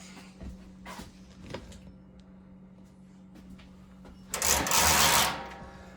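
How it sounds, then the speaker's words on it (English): A ratcheting light hanger clicks in a few short bursts as grow lights are pulled up, followed by a louder, longer zipping pull near the end, close by and without talk. "it's just got this little ratcheting system where I can pull these lights up"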